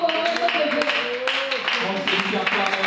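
Church congregation clapping and cheering in acclamation at a worship service, a dense, continuous wash of applause with voices shouting over it.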